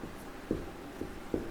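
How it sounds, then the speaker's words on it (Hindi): Three short marker strokes squeak and tap against a whiteboard, spaced about half a second apart, faint and close against quiet room tone with no voices. "पहले इस तरफ हम लिखते हैं दूरी"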